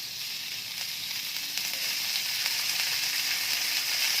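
Chicken pieces frying in hot oil in a wok, with a dense, even hiss of sizzling that holds steady and slightly swells, close and continuous, with no voices.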